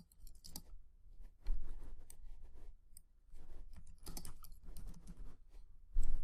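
Quick bursts of typing on a computer keyboard while text is entered into an online image-making tool, with uneven clusters of close, crisp key clicks and short pauses between them.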